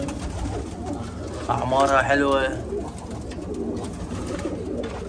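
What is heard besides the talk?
pigeons cooing on a rooftop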